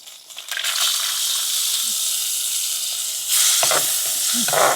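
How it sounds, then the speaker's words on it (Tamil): Cashews dropped into melted butter and frying, a close, loud sizzle that swells at the start and holds steady with faint stirring taps underneath; no talking. "கஜுவையும் வந்து நல்லா பொன்னிறமாக வதக்கி எடுத்துக்கொள்ளணும்"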